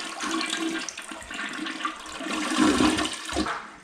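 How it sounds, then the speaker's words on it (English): A household toilet gives a final flush to empty its tank: a loud, close rushing swirl of draining water that surges and gurgles steadily for several seconds, with no voices. "Give the toilet a final flush to empty the tank."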